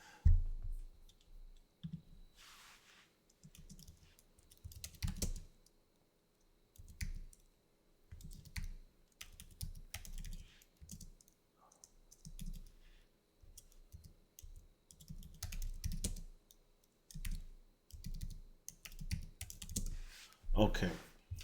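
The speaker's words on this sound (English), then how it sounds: "I gotta type that out." Bursts of clicky typing on a computer keyboard come in quick runs separated by short pauses, close and fairly faint, continuing irregularly throughout.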